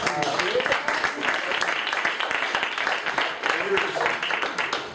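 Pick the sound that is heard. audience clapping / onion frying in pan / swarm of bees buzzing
audience clapping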